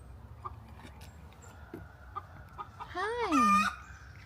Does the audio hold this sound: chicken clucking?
yes